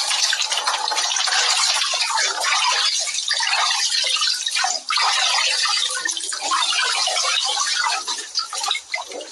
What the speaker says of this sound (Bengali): নিচে টিউবওয়েল থেকে পাম্প করে এখানে ধারা স্নানের ব্যবস্থা